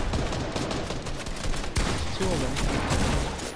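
Rapid gunfire in a Fortnite firefight crackles in dense bursts of overlapping shots, one sharp crack standing out midway, while a player speaks briefly over the shooting.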